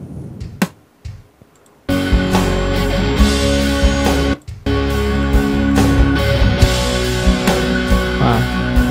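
A drum track made only of kick and snare plays back from recorded audio in a steady, dense beat that stops briefly in the middle, preceded by a short quiet stretch with a few taps at the start.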